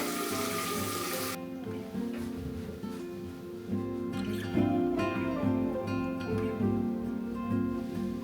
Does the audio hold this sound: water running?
yes